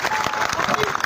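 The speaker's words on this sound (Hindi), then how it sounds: "एक बार जोरदार तालियां" Loud applause and crowd cheering for the chief minister at a public gathering in Dehradun, dense clapping that is continuous across the short moment.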